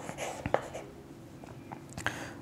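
Pen or pencil scratches out numbers on paper during a math calculation, a few quick soft strokes and taps, close and quiet, without talk.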